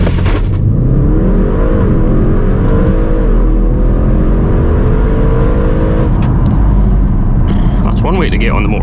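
An Audi RS6 with its silencer deleted launch-controls up a motorway slip road, the engine roaring loud and close as it climbs through the revs with gear changes, then easing off into a steady drone and tyre roar.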